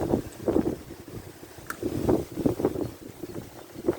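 Strong gusty wind buffets the microphone at a fishing lake during float fishing for rudd, with loud low rumbling bursts rising and falling throughout and no talking.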